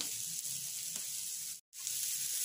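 Thambakaya (tamma kaya) frying in a pan, a steady close sizzling hiss that cuts out abruptly for a moment before resuming just as strongly.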